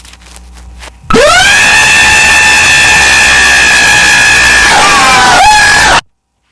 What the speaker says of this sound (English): the one with the loud ass screaming